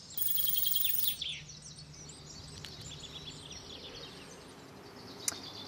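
Great tits at their nest, with a burst of high, rapid chirping and calls at the start, then softer intermittent tweets against a quiet outdoor background and one sharp click near the end.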